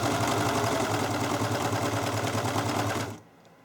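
A serger stitches along fabric edges for a car seat canopy, a fast, steady mechanical whirring chatter heard up close that runs continuously for about three seconds and then stops abruptly.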